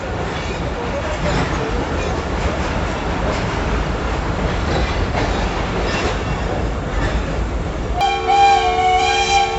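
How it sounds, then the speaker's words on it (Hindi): A Pakistan Railway steam safari train rolls past loudly with a continuous heavy rumble and clatter, then a steady tonal whistle sounds clearly near the end. "स्टीम लोकोमोटिव फुल विस्लिंग करते हुए"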